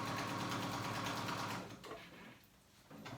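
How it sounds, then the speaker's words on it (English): A sewing machine top-stitches board shorts, its needle running in a steady fast mechanical whir for about a second and a half, then slowing and stopping before starting again briefly, close and fairly quiet, with no talk. "now I'm going to top stitch it"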